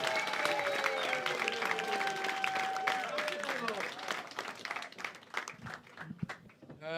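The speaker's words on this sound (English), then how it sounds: "Shout round of applause" A comedy club crowd applauds and cheers as a comic takes the stage, sustained clapping with a whistle and shouts layered on top, fading into the comedian speaking near the end.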